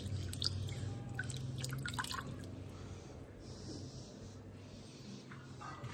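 Water drips and trickles quietly onto potted plants at home, a soft uneven patter of drops with faint low background hum.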